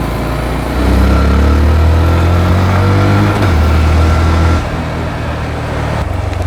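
A Honda Grom motorcycle engine drones loudly and steadily while riding, its pitch holding through a gear run before easing off toward the end.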